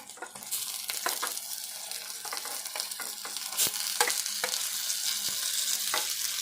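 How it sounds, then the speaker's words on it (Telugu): Chicken with turmeric and ginger garlic paste frying, a steady close sizzle with repeated scraping stirs and clatters from a spoon, no voices. "ఇప్పుడు ఈ కడిగి పెట్టుకున్న శుభ్రంగా చికెన్ వేసుకుందాము."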